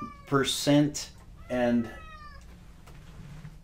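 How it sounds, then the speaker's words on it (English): A cat meows twice nearby, two clear drawn-out cries in quick succession, then a quieter low murmur follows. "that's the cat in the background"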